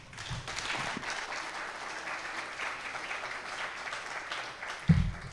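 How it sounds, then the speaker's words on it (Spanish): Auditorium crowd at an international coca leaf forum applauds in a steady, fairly distant wash of many hands, continuing evenly before a sharp bump near the end. "Les agradezco un aplauso."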